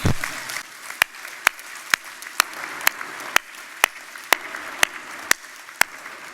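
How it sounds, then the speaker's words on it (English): Conference audience clapping for a union president's speech: a wash of applause under sharp, evenly spaced single claps that keep a steady beat throughout. "give yourselves a huge clap"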